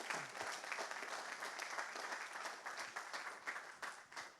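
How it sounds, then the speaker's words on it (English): A conference audience at an SPE Italian Section event applauds steadily, a dense, sustained patter of many hands clapping close by that continues without pause and with no talking over it. "I ask you a big applause to Sarah that helped us a lot"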